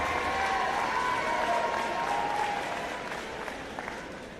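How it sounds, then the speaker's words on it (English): Crowd applause at the St. Marys Memorial High School 2023 graduation for parents and loved ones, a broad steady clapping from a large audience, slightly distant, tapering off toward the end with a few whistles over it. "Please give them a big round of applause."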